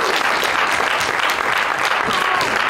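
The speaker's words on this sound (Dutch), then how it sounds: "Applaus" Audience applause at the Peel en Maas Starter of the Year 2021 award ceremony in Venray, as winner Claudia Keizers of Saar aan huis is announced; steady dense clapping from a sizeable crowd throughout.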